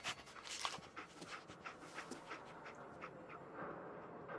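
The dog companion Dogmeat pants in the video game Fallout 4, quiet rapid breathing with a soft rhythmic pulse over faint game ambience.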